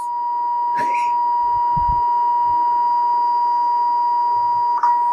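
A steady, loud electronic bleep tone holds for the full length, with brief bursts of muffled speech poking through underneath.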